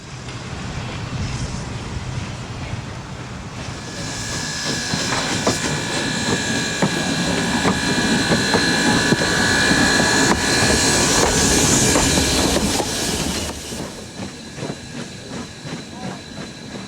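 Steam locomotive number 2 on the Niles Canyon Railway during a steam festival, a loud continuous hiss and rumble of steam that swells and then eases, heard close and without talk.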